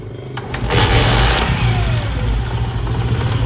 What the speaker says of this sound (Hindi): उस टाइम हमें मोटरसाइकिल को स्टार्ट करना होता है, जैसे कि अभी ये मैं करता हूँ